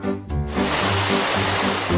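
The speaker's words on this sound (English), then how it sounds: "Oh, there is a creek, named after the town." A creek flows steadily with a continuous rushing, splashing wash of water close by, alone with no voices.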